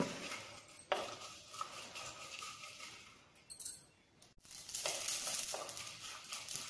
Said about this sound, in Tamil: நல்லா எல்லாமே நல்லா படப்படன்னு பொரியுது பாருங்கள்